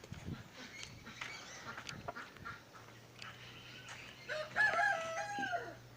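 Country chickens in a home backyard flock cluck softly and crow at a distance, with a brief crowing call rising near the end over quiet, low background hum.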